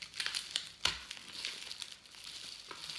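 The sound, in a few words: unwrapping an advent calendar gift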